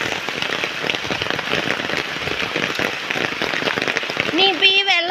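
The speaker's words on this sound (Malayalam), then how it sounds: "ഈ സ്റ്റെപ്പ് വഴി വെള്ളം വരുന്നേ" Rainwater runs down village steps in a heavy downpour, a dense steady patter and splash that fills the whole stretch, with a voice breaking in near the end.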